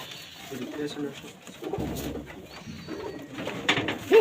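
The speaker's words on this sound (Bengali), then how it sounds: "বাচ্চা নিয়ে বসে আছে একটা বাঘা কবুতর সিলভার বাঘা" A silver Bagha pigeon sits with its chicks in a loft, giving repeated low, throaty coos close by, with faint background voices and ambient rustle around it.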